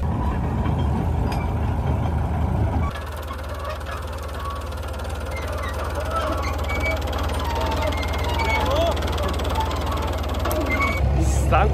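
A farm tractor engine starts and settles into a loud, steady, low diesel rumble that shifts pitch partway through and stays close throughout.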